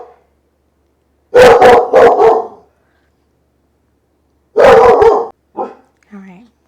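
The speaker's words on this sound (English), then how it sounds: "We've got a dog with trust issues." A dog barks loudly and close by, first in a quick cluster of three or four barks, then another burst after a pause, trailing off into softer yips and whines.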